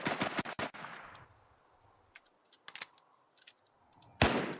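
Gunfire in the video game Last Man Standing, a rapid close burst of shots at the start, then scattered distant pops and clicks and one more loud shot near the end.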